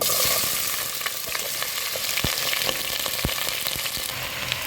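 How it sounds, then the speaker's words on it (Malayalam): Vegetables for avial sizzling in hot oil in a pan, a dense, loud frying hiss that runs throughout with a few soft pops and knocks as pieces drop in. "ഇനി ഞാനൊരു പാൻ വെച്ചിരിക്കുകയാണ് ഓയിൽ ഒഴിച്ചിട്ടുണ്ട് ഇനി നമ്മൾ എടുത്ത് വെച്ചിരിക്കുന്ന വെജിറ്റബിൾ ഓരോന്നായിട്ട് അതിലേക്ക് ഇടാം"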